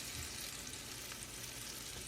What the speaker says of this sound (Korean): 식용유를 넉넉하게 넣고 튀기듯이 부쳐주세요.